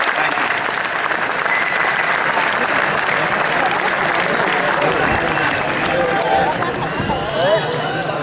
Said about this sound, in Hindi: एक बार जोरदार तालियां बजाकर स्वागत करेगा।